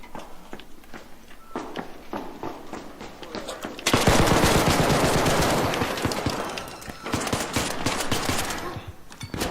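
Rapid video game gunfire bursts up front, followed by a loud sustained stretch of dense shooting and impacts from about four seconds on, with a voice speaking briefly underneath.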